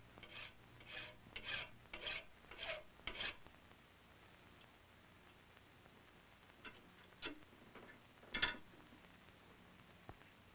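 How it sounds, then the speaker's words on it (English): A hand file rasps across the iron breech of a colonial-style gun barrel in a run of six quick, even strokes, followed by quieter, sparser scrapes and taps, fairly faint. "file down the breech of the barrel until the plug turns around to the proper"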